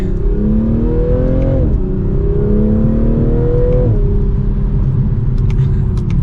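A 2023 Toyota GR Supra 3.0 with an 8-speed transmission accelerates hard, its engine note rising steadily through two quick upshifts and then pulling strongly in a loud, continuous drone.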